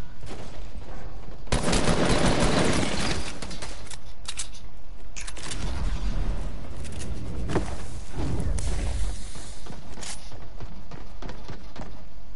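Rifle gunfire in a video game crackles loudly in repeated bursts, with a heavy volley around two seconds and more scattered shots through the rest, over a dense, busy backdrop.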